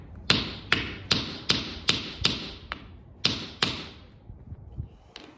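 A hammer taps about nine times in a steady, sharp rhythm that slows slightly, then pauses before one last tap; loud and close, no voices.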